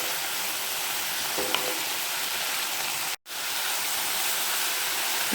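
Vegetables for Indian-style fried rice sizzle steadily in a pan over high flame, a constant hissing wash of frying noise with one brief dropout midway and no voices.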